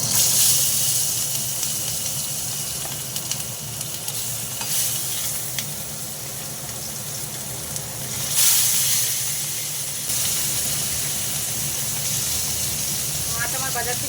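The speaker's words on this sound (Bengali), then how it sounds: "তেলটা হয়ে গেছে, দিয়ে দেবো মাছ।" Fish pieces go into hot oil in a home kitchen pan for a Bengali chela fish curry with potato and aubergine, giving a steady, fairly loud sizzle and hiss throughout, with a brief louder burst midway.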